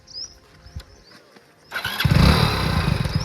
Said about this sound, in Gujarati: સાહેબ ચાલુ છે બાઇક તો